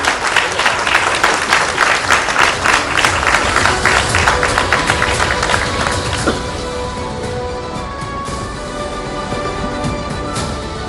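Loud, dense applause from an audience welcoming the News 18 India editor onto the Chaupal stage, sustained for several seconds before thinning into a softer, scattered clapping with faint room tone.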